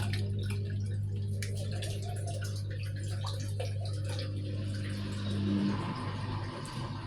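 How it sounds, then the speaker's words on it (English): Water drains from the pipe of a running Samsung washing machine before its spin cycle, a soft continuous trickle and gurgle beneath a steady low machine hum, with faint ticking clicks. "You can see from this pipe, that is water draining."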